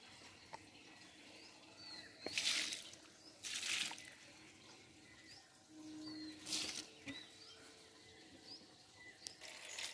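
Water is poured from a mug into a garden plant pot in several short splashing bursts, soft and close, separated by quiet pauses with faint outdoor background.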